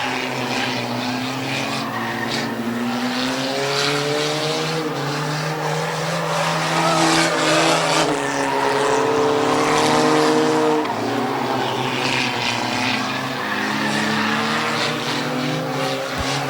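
Trophy stock cars roar around Midvale Speedway in a six-lap heat race, their engines droning loudly and continuously with rising and falling pitch as the pack passes.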